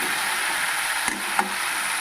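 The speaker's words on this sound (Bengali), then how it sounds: "তো গাইস এরকম আমার মশলা কষানো প্রায় হয়ে গেছে।" Masala spice paste sautéing in a pan for chicken curry, heard as a continuous dense hiss of frying with a couple of faint spoon taps.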